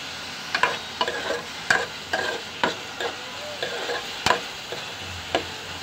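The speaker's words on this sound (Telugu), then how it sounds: "చూడండి, వేగుతున్నాయి ముక్కలు." Mutton pieces fry with onions in a pan, a soft steady sizzle broken by repeated scraping stirs and clinks of a spoon, close and moderately quiet, with no talking.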